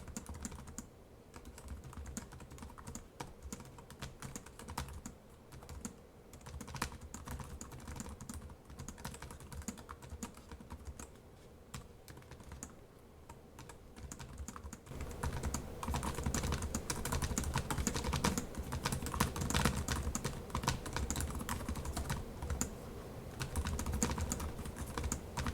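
Steady typing on a Lenovo Yoga Pro 7 14-inch AMD laptop keyboard with raised, long-travel keys, a continuous patter of close key clicks that grows louder and denser in the second half, with no talking.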